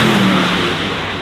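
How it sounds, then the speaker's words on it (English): A Porsche Taycan Turbo GT, the 900-horsepower electric saloon, speeds past at full pace, giving a loud, steady electric whine and rushing road noise that fades slightly over a second. "The Turbo GT though is the super quick 900 horsepower version of the Taycan."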